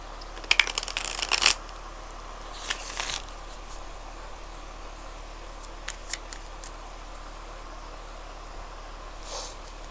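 Quick papery bursts of Light Seers tarot cards being shuffled, a longer riffle followed by a shorter one, then mostly quiet with a few faint taps.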